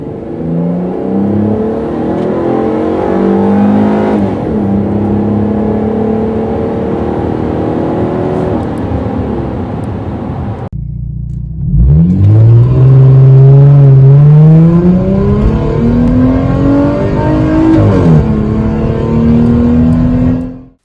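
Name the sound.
Dodge Challenger car accelerating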